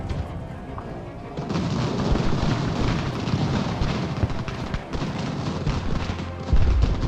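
Heavy booming cannon fire in the video game Ultimate General: American Revolution rolls continuously, a dense barrage of blasts and rumbles with no pauses, loud and close.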